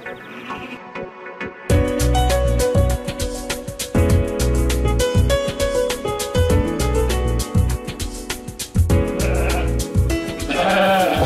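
A flock of sheep bleats loudly on a small farm, with dense overlapping calls running almost continuously after a brief quieter opening.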